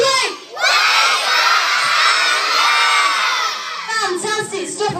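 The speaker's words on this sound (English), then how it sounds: "we're going to shout nice and loud" A zoo show audience at Blackpool Zoo, mostly children, shouts loudly together to wake a sea lion, one sustained burst of yelling and cheering that tapers off into scattered voices.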